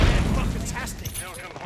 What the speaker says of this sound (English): Tossing Semtex.